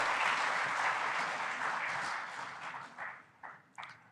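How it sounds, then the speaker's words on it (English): Audience applause at an opening ceremony seminar, dense steady clapping that thins and fades out into a few last scattered claps. "She deserves another hand of applause."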